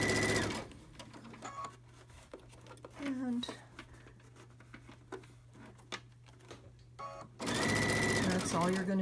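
A sewing machine stitching thick cloth ties for a medical mask, with loud, rapid whirring runs at the start and end around a quieter middle of short stitching bursts and soft handling, while a voice talks.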